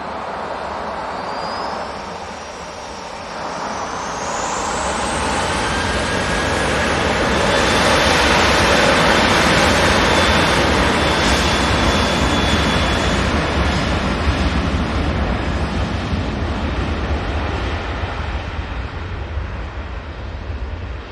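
A jet airliner in .com livery at Manchester Airport roars past, its engine noise swelling from a distant whine to a loud, sustained rumble and then holding steady, with no one talking.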